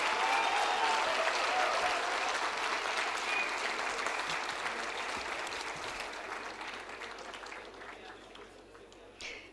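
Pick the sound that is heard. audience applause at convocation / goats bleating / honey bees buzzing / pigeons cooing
audience applause at convocation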